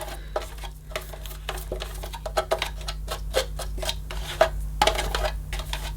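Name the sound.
toy vacuum cleaner running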